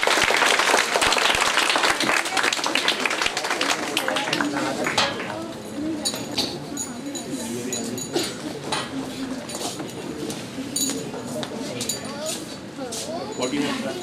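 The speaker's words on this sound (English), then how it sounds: "Clap hands, everyone. Clap hands." Loud sustained applause and hand clapping from a crowd at a high school annual day prize ceremony, dense at first and then easing to scattered claps under continuing talk for about fourteen seconds.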